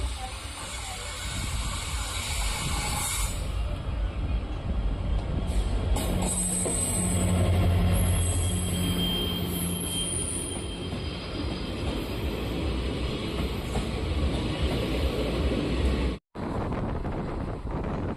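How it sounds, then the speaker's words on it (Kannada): The Mysore–Talaguppa Express 16206 crosses at Shivapura railway station, a long, continuous rumble of passing coaches with hissing wind and occasional wheel squeal. The sound stays close and steady throughout, then briefly cuts out near the end. "ಮೈಸೂರಿಂದ ತಾಳಗುಪ್ಪ ಹೋಗ express one six two zero six ಇವಾಗ ನಮ್ಮನ್ನು ಕ್ರಾಸ್ ಆಗ್ತಿದೆ"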